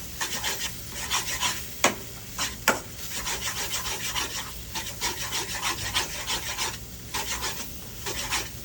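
Pad thai noodles with sauce stir-fried in a pan, a steady rhythmic scraping and rubbing of the spatula with faint sizzle, plus two sharper knocks of utensil against pan, moderately near.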